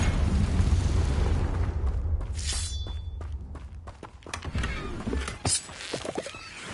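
A Confringo spell explodes in a Harry Potter video game, a loud booming blast with crackling bursts over a rumbling low end, followed by scattered pops and debris-like crackles fading out.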